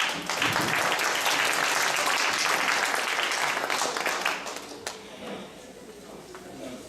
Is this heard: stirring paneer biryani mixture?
no